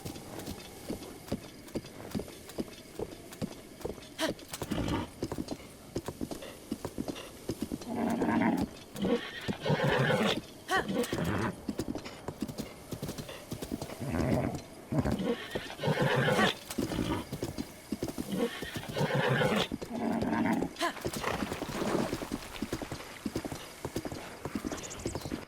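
Horse hooves clip-clop steadily at a gallop in The Legend of Zelda: Breath of the Wild, with loud whinnies and snorts rising over the running rhythm, close and continuous.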